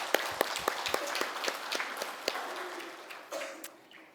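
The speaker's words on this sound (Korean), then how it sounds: "크게 영광의 박수를 돌리겠습니다" A congregation at a Sunday service applauds to give glory and encouragement, loose overlapping clapping with distinct sharp claps standing out over a diffuse room wash, fairly distant and moderate.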